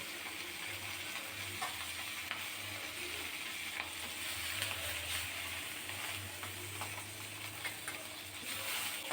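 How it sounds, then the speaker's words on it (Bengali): Katla fish heads fry in oil and are turned now and then, a quiet steady sizzle with occasional faint clicks and scrapes over about nine seconds, with no talking. "নেড়ে চেড়ে মাথাগুলোকে লাল লাল করে ভেজে নিয়েছি।"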